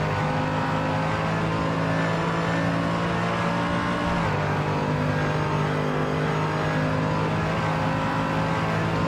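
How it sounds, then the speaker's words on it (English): Mercedes race car in a racing video game at the Nordschleife, engine droning loudly and continuously with a slight shift in pitch midway, no voices over it. "Ludden driving the car that sounds like a cow with flatulence"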